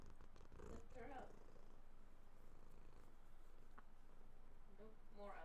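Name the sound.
cat purring near the microphone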